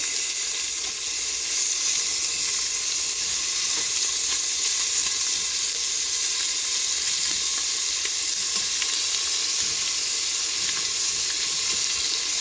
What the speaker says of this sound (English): So I'm going to sear this beef first